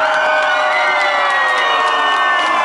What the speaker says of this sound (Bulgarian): първо искам да чуя най-шумите и силни аплодисменти за Преслава